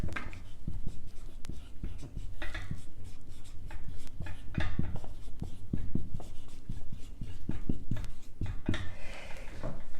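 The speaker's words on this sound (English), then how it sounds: "Maybe I'll write it up here." Marker or chalk writing on a lecture-hall board during a linear algebra class, a steady run of short scratchy strokes and taps close by, with no talking.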